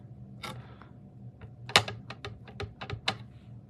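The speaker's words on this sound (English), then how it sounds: "I'm going to stamp this" A rubber stamp is pressed onto a strip of card stock in a series of sharp, close tapping clicks. The clicks are irregular, with a louder knock in the middle, over a quiet background.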